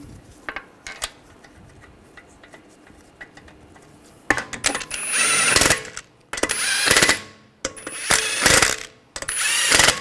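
Lug bolts are started by hand and snugged down on a BMW 535 xDrive wheel. Light metallic clinks come first, then loud ratcheting and power-tool whirring bursts in several separate runs.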